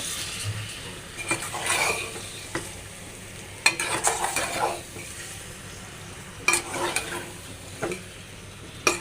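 Chicken bhuna being stirred in a pan as it fries: soft scraping and sizzling strokes, with occasional sharp clicks of the utensil against the pan at irregular intervals.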